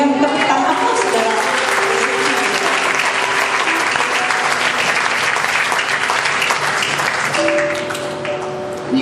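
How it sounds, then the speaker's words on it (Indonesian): A church congregation applauds the worship team, dense loud clapping that holds steady throughout, with sustained musical tones, likely a keyboard, ringing underneath. "Mari berikan tepuk tangan, saudara."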